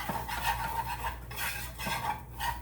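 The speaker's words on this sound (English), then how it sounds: "You just mix this all up together." Utensil scraping and stirring a flour mixture in a pot while making gravy for ham and cheese chowder, a continuous soft rhythmic clatter up close over a faint steady background.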